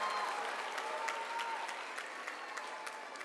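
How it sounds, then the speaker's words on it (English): Steady applause from a graduation audience at a community college commencement ceremony, honoring the commencement speaker. Dense, even clapping from a large crowd sits at a moderate distance and fades slightly toward the end. "Let's give him another warm round of applause."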